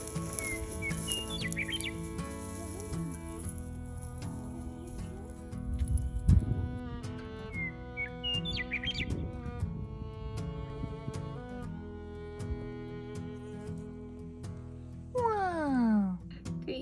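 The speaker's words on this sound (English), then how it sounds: "just enjoy the sound of the birds" Birds chirp and trill in a quiet canyon, scattered whistled calls near and far over soft rustling, with a few low bumps and a sweeping tone near the end.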